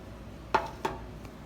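Rice tipped into a saucepan holding about a tablespoon of plain oil in a home kitchen: two quick, close clattering knocks of pan and grains about a third of a second apart, then quiet.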